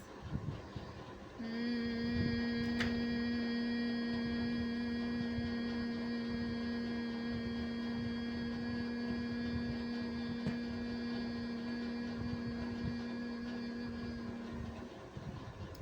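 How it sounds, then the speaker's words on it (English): A steady, even hum carries through a long exhale during postpartum yoga breathing, holding at a single pitch for over ten seconds against a faint quiet room. "As you exhale, make humming sound, opening and closing the tragus."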